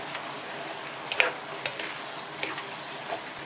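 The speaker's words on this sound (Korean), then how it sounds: "이 고기 국물에 당면을 볶아주세요" Glass noodles stir-fried in meat broth, with mushrooms cooked in the pan before them, give a soft, quiet sizzle broken by scattered small ticks and clicks of the pan.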